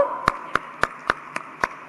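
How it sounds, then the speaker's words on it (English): About six sharp, evenly spaced hand claps ring out in a hall at a university student induction program, moderately loud against a faint steady hum, with no talk. "A big round of applause to everybody here on the hall."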